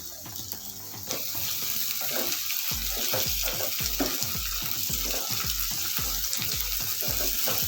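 Chopped tomato sautéing in hot oil in a pan for vegetable pulao, a steady loud sizzle with repeated rhythmic scraping and stirring strokes throughout.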